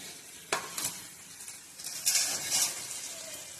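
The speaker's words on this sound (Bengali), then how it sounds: "এখানে এই যে মশলা এখানে কষিয়ে নিচ্ছি" Spices sautéing in oil in a pan, with soft stirring scrapes and a brief bright clatter of a utensil, then a steady faint sizzle beneath.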